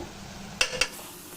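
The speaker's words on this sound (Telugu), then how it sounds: "ఇప్పుడు లాస్ట్లో కూర ఉల్లిపాయ ముక్కలు వేసుకుంటున్నాను" Onion pieces tipped into a hot pan of sizzling poori curry gravy and stirred, giving two short, close scraping clatters over a steady low sizzle, with no talk.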